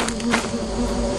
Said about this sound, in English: Oh, do I hear bees?